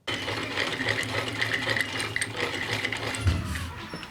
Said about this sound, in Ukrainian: Ці швейні машинці уже півстоліття, але вона робоча